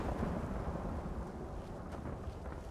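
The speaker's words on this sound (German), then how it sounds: "Heute donnert's." Thunder in the video game Skyrim Special Edition rolls as a continuous low, distant rumble with a steady wash of noise throughout, no sharp crack, heard alone.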